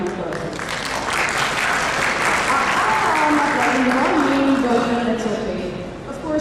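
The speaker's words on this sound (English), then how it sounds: "very big round of applause" An awards gala audience breaks into loud, sustained applause, a dense wash of clapping that holds steady throughout and fades slightly near the end.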